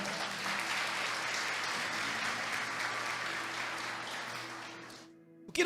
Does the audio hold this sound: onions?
no